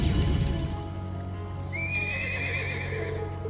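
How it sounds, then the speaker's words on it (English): A horse whinnies in a rising, drawn-out neigh in the game The Legend of Heroes: Trails of Cold Steel II, over a low ambient bed with a brief patter of hoof clip-clops at the start. "This is a horse."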